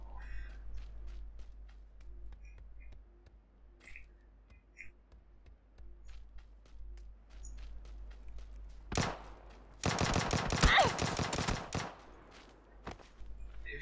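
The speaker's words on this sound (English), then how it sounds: "Who's shooting at me?" Video game gunfire: quiet ticks and faint clicks give way to a single sharp blast, then a loud, rapid burst of automatic fire lasting a couple of seconds before dropping back to quieter sounds.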